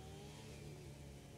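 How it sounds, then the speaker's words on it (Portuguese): A motorcycle engine revs hard on a late-night street ride in the USA, a steady mid-pitched drone held close for a brief moment. "essa moto é forte pra caramba"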